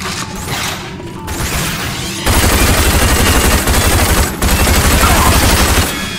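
Rapid automatic gunfire crackles through a prison-break shootout in the video game Rage, loud bursts running nearly continuously with a brief lull, while a voice talks faintly underneath.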